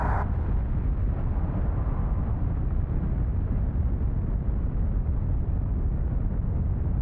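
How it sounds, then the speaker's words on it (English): A rocket blows up in Kerbal Space Program 2 with a loud, sustained roar of rumbling explosion that rolls on without a break for several seconds. "The whole thing may explode right now. It may very well just all explode."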